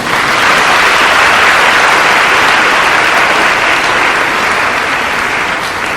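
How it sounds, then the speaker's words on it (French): A large crowd at a school's diamond jubilee celebration claps loudly and continuously, a thick wash of applause that holds steady for about six seconds before easing slightly. "applaudissez pour notre Seigneur."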